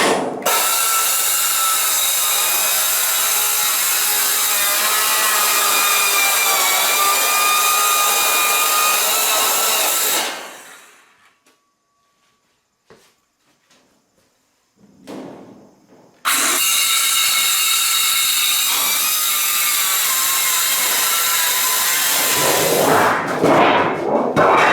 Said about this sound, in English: It's really amazing how easily it cuts through steel.